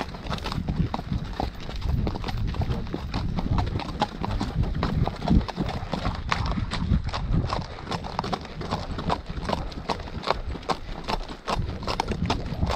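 Mares walk along with steady, overlapping clip-clop hoofbeats, a continuous close rhythm of many hooves on the ground throughout.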